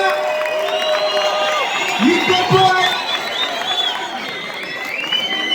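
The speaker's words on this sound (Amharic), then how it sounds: "ሞቅ ያለ ጭብጨባ" A crowd at a large night event in Ethiopia cheers and whoops in a loud, continuous roar, with someone speaking over the noise.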